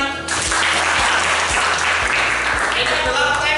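Classroom students clap together, loud and close, the hands striking in a regular rhythmic beat about twice a second, with a noisy, crowded room sound and some voices mixed in.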